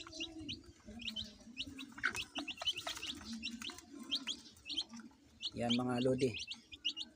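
One-week-old pure Labuyo chicks peep in rapid high chirps throughout, fairly close, while someone talks over them and another bird calls briefly near the end.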